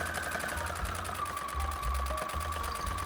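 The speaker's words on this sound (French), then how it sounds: "je vais aller coudre à la machine l'emplacement de ma poche" A sewing machine stitches a pocket placement onto the lining of a faux fur sheepskin-style tote bag, its steady whirring hum running throughout in short pulsing bursts, close up with no talking.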